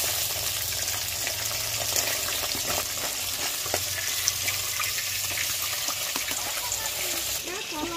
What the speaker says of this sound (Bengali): মাছগুলো কিন্তু প্রায় ভাজা হয়ে গেছে